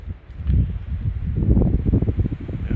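Strong wind gusts roar and buffet across a hillside on a spring night walk, a low rumbling rush filling the whole stretch with rustling.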